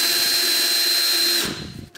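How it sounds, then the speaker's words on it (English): Power drill driving a bit into a 2x4, a loud steady high whine close up that winds down and stops near the end. "I'll just drill it right into the 2x4"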